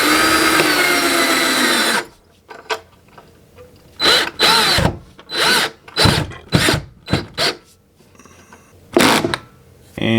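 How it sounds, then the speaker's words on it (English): Cordless power drill driving a screw through a bookshelf anti-tip mount into a wall stud, heard as several short bursts of whirring with pauses between them, preceded by a loud continuous run. "we're going to drill that into the hole that we made in the wall."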